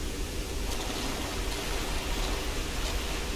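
Steady, full rushing roar of a waterfall in the Tomb Raider video game, even and unbroken throughout, with no voices over it.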